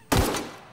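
A single loud gunshot from a weapon in The Outer Worlds, a sharp close blast with a decaying tail, no talk.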